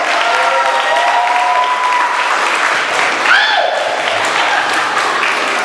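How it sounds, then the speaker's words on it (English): A crowd applauds loudly and steadily throughout, with voices and cheering mixed into the clapping. "Give Sister Keisha a round of applause."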